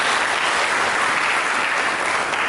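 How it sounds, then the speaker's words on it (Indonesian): A church congregation applauds during a sermon, a dense, steady wash of clapping that stays loud and even for the whole stretch with no voice over it. "Mari kita beri tepuk tangan."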